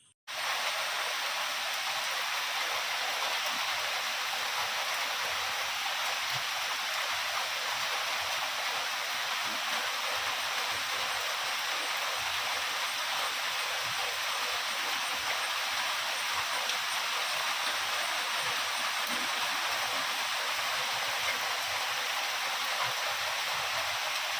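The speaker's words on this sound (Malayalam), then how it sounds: "വന്നത് വേറെ ഒന്നുമില്ല മഴയാണ് നല്ല സൂപ്പർ മഴയായിരുന്നു" A heavy, continuous downpour roars evenly throughout, a broad steady wash of water with no talking.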